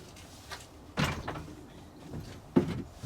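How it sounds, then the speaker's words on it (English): A door is popped open on a cold, snowy December morning at a garden plot: a loud, close clunk and rattle, then a second sharp knock a moment later, with scraping in between and no talking. "Oh, pop the door open."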